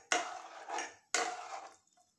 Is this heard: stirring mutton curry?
yes